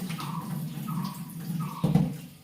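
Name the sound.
washing vegetables under running water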